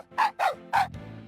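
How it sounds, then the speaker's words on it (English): A dog barks three times in quick, loud, close succession in a cutscene of the video game Sally's Salon: Kiss & Make-Up, followed by a low background hum. "Don't bark at her."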